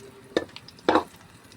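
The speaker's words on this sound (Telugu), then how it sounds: "ఎండుమిర్చి బాగా వేగాక చూడండి, ఫ్రై అయిపోయింది ఎండుమిర్చి" Two brief scraping stirs of dried red chillies and garlic frying in oil, each a short rustling sizzle about half a second apart over a faint background of hot oil.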